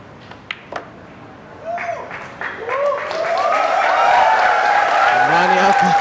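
Crowd at a 9-ball pool tour final in Manila builds from scattered claps into sustained, swelling applause with cheers, loud and close, running to the end.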